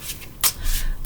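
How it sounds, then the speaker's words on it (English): Tarot cards being shuffled by hand, a short run of soft papery riffles and rubs with two sharper bursts, close and fairly quiet, no voice. "I'm shuffling, and then when I'm done with this shuffle, I will take 6 cards off the top."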